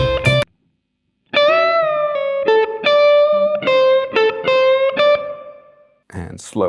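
A blues guitar lick with string bends, over a shuffle in A, plays as a steady string of picked, effects-coloured notes with rising bends and a final sustained note fading out; brief talking is heard before and after the playing.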